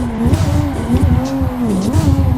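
A racing video game car engine drones loud and steady near redline in second gear, pitch rising and dipping with throttle modulation, with no talking.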